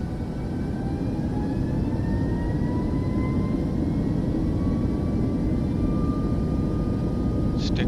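Airliner jet engines spool up to takeoff thrust in Microsoft Flight Simulator 2024, a loud, steady roar with rising whine tones that holds evenly throughout the takeoff roll.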